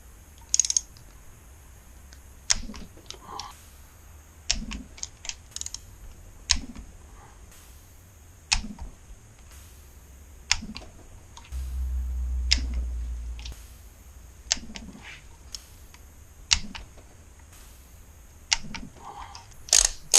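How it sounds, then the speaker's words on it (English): A torque wrench tightens the cylinder head bolts on a 2009 Kawasaki ZX-10R engine to 15 foot-pounds, giving a series of sharp, separate clicks and ratcheting ticks at irregular intervals, close by with no talk. "now I've got those all torqued down to 15 foot-pounds"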